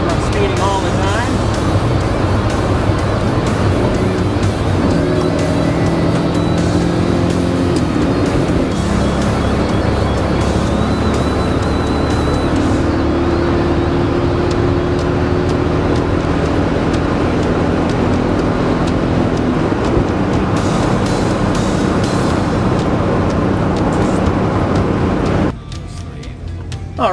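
Non-turbo Datsun car with an intake modification, its engine droning steadily under acceleration while driving, with gear-shift pitch changes and road noise throughout, cutting off near the end.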